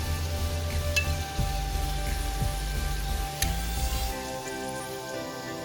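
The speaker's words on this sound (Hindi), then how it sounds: "गाइस इनको हम निकाल लेंगे और जो बाकी बचे हैं उनको हम फ्राई कर लेंगे।" Spiral-cut potatoes fry in hot oil with a continuous crackling sizzle, close and steady, with a few sharp utensil taps against the pan.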